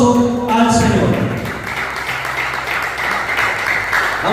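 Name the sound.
congregation applause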